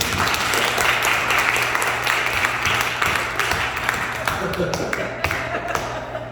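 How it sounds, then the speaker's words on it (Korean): Congregation applause at a missionary retreat revival meeting in the Philippines, a dense sustained wash of clapping that runs the full length and slowly thins toward the end, with a voice speaking over it. "그때 박수 한번 쳐줘야지."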